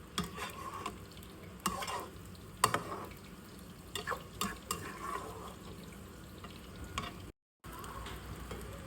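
Seven eggs frying together in one pan, a steady soft sizzle with scattered sharp clicks and scrapes of a utensil against the pan, moderately faint and close, with no talking.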